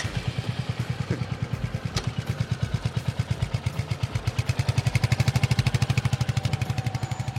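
A Royal Enfield motorcycle engine thumps at a steady, even idle, close by and unbroken, its rhythmic pulse quickening slightly toward the end.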